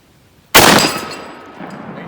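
Single loud, sharp blast of a Mossberg 12 gauge shotgun firing a Mr. Hollow Point 1082 grain slug outdoors, followed by a decaying echo.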